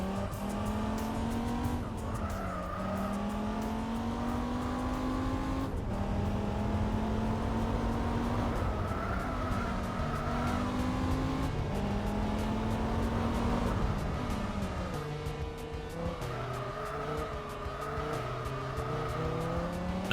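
Race car engine in Gran Turismo 4 on Autumn Ring, droning steadily at high revs with repeated rising pitch sweeps through gear changes and brief tire squeals, loud and continuous throughout.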